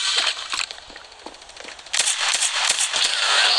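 Shotgun blasts ring out in a video game firefight, several sharp, loud bursts spaced irregularly, the last ones dense and close together over a noisy background, with no talking.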